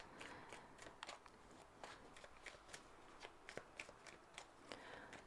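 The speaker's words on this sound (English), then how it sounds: "let me shuffle" Tarot cards are shuffled in quick, crisp riffles, a soft flurry of papery flicks and snaps, close and quiet with no talking.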